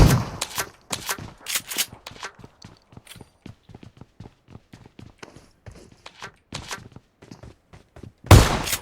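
Pump shotgun fire in the mobile game PUBG Mobile: loud blasts at the start and end, with a rapid run of sharp clicks and thuds in between.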